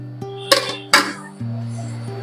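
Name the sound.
lid being placed on a cooking pot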